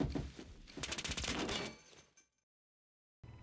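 Rapid automatic fire from a P90 submachine gun in the Roblox game Phantom Forces, a dense burst of shots that rattles on for about two seconds and then cuts off into silence.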